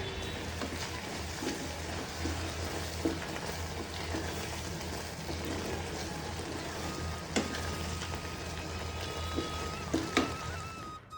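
Dry fruits frying in a nonstick pan held slightly above a gas flame while being stirred, giving a steady close sizzle with occasional light scrapes and clicks of the spatula and no voices.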